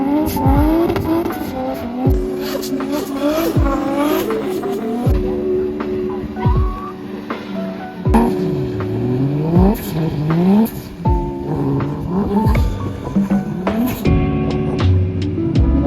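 Cars drifting around cones at a drift academy, engines revving and tires squealing in long sweeping slides, one after another, loud and near throughout with no talk.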